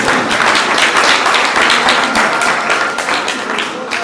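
Loud, dense clapping from a crowd during a religious discourse on Mahavira, a continuous burst of hand claps that thins slightly toward the end, with faint voices mixed in.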